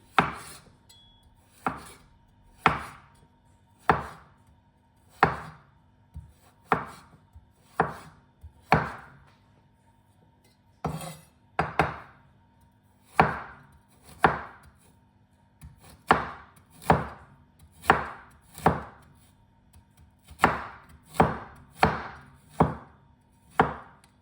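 A knife chops ginger for Thai fish cakes on a board in about twenty crisp, close strokes, mostly in quick bursts with short pauses, and no voices.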